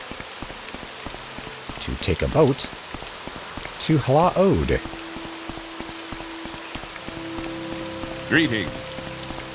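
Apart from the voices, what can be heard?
rain downpour in the video game Morrowind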